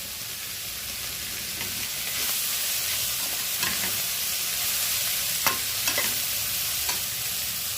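Mint leaves and mixed vegetables sauté with salt in oil for a white vegetable biryani, a constant crackling sizzle with intermittent spatula scrapes and taps against the pot, close and without talk.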